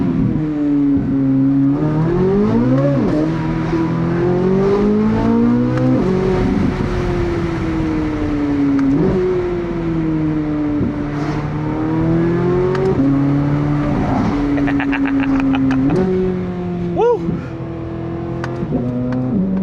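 Corvette Z06 supercar engine revving loudly up and down through repeated throttle blips, a deep rising and falling roar that continues steadily and sounds close, with no voices.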